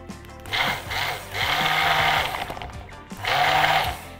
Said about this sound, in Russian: эту ногу от блендера держите максимально близко к дну, для того, чтобы не было пузырей